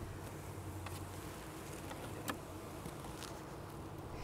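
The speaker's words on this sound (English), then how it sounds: "You can really hear them in there now. They're happy." Honeybees humming inside a hive, a low steady drone with faint crawling patter and a few sharper ticks, close and soft, with no talking.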